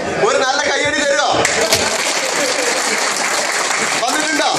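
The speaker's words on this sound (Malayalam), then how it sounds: "ഒരു നല്ല കൈയടി തരുമോ?" An audience at a talk by a speaker gives dense, loud applause that runs steadily through the whole clip, with a voice speaking over the start and the end.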